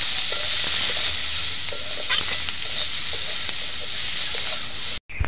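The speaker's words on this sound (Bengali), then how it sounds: "এবারে ভেঙে এটা নাড়াচাড়া করে ভাজা ভাজা করতে লাগবে।" Fish roe with bitter gourd stirred and fried in a pan, a steady loud sizzle with scraping stirs, cutting off abruptly near the end.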